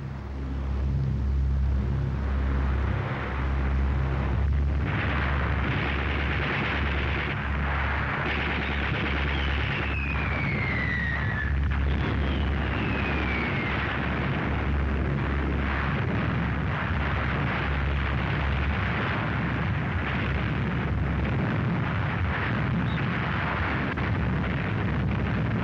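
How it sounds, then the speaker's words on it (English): Gunfire and explosions roar continuously during a low-level torpedo bomber attack on a wartime convoy at sea, a dense, loud barrage of booms and rumble with aircraft engine sweeps passing through. "Torpedo bombers coming in mast-high, deck-high, with a hail of gunfire going after them."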